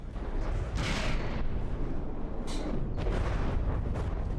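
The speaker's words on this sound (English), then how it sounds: "Missiles are coming in here." Missiles strike and explode during a From the Depths battle, producing two rumbling booms over a steady, dense roar of combat noise.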